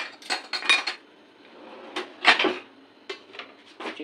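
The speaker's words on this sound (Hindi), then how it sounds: "बर्तन भी मैंने लगा दिए।" Utensils and dishes, including cups, being put away on a kitchen stand, with sharp metallic clinks and clatters in irregular bursts, close and fairly loud, separated by brief pauses.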